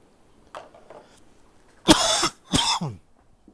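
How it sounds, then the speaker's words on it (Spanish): Two harsh, loud coughs close by after a few faint throat sounds, ending with a rasping clear of the throat. "de repente me da como un ataque de tos"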